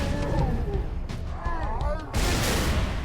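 A frag grenade goes off in a Halo 3: ODST firefight, a booming blast amid continuous gunfire and battle noise, with voices talking over the loud, dense action.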